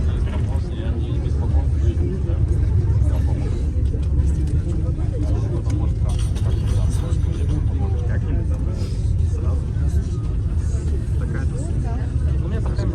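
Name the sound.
riding inside a packed city bus 80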